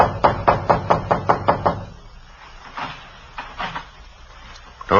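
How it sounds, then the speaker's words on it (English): In an old police radio drama, a quick run of about eight firm knocks is followed by quieter rattling and shuffling as a door is worked open, ending in a sharper bump. "Door's open."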